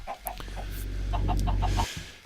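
Several short clucks from video game chickens in quick succession, close and clear, over a steady low hum.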